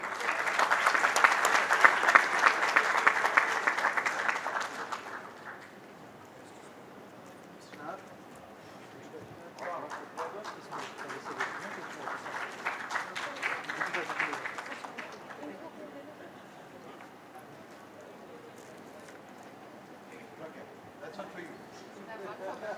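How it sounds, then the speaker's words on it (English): Audience applause at the Vidhi Utsav 2025 event, a loud burst of clapping for about five seconds that fades, then a second softer wave of clapping rises and falls, with a few voices in the crowd. "Can we have a round of applause, please?"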